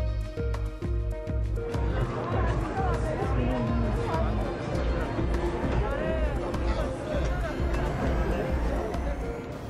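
Street crowd hubbub on the Las Vegas Strip: a steady babble of many voices and footsteps with passing traffic noise, continuous and moderately loud throughout.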